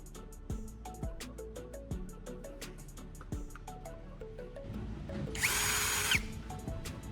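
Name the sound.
power drill drilling a hole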